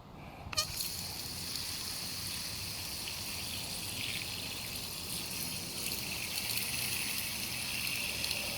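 Water poured onto a plant in a terracotta pot, a steady close trickle and splash running without pause after a brief click at the start.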